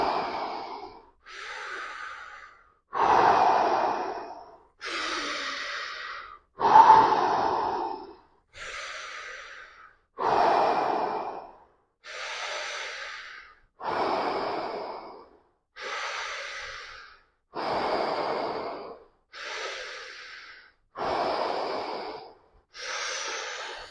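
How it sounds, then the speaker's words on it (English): Deep belly breaths during a trauma release yoga session, about thirteen slow, even breaths alternating in and out, close and clear with quiet pauses between each one and no talking. "so really get that breath moving in and out"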